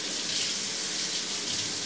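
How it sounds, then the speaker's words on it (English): Tap water runs steadily from a faucet while a spoon is rinsed after making guacamole, a continuous close hiss of flowing water with no talking. "Rinse my spoon."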